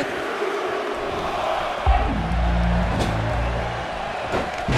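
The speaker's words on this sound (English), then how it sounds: "Listen to this crowd count the next one in." Game crowd in WWE 2K18 at a women's Elimination Chamber match in Phoenix, chanting and cheering steadily throughout while low rumbling impacts sound from the ring.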